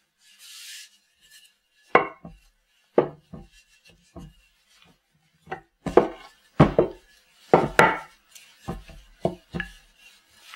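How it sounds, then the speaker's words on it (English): A wooden rolling pin works rugelach dough on a floured marble slab, giving a series of irregular knocks, thumps and rubbing rolls close by, separated by short quiet gaps. "I'm going to see if I can do a better job of rolling this one out."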